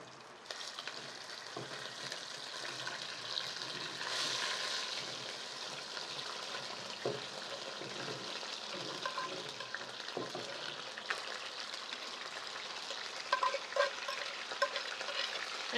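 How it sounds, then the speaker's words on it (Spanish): Meat frying in hot oil in a clay cazuela gives a steady, dense sizzle throughout, with occasional soft pops and clinks rising above the continuous crackle. "Ya puse aquí una cazuela con aceite, ya está bien caliente. La voy a poner a freír aquí."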